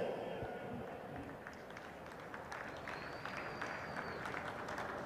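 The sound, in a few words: applause for the silver medalists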